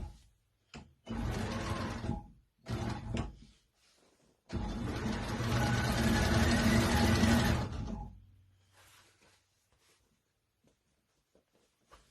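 A Cowboy CB6900 cylinder arm industrial sewing machine stitches a zipper onto a bag in short bursts: two brief runs, then a longer steady stitching run of about three seconds, then quiet with faint handling clicks.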